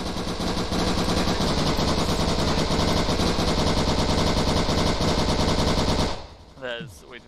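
Rapid, relentless machine-gun fire from the video game Bean Battles, a dense continuous stream of shots lasting several seconds before cutting off abruptly, followed by a short burst of game sounds.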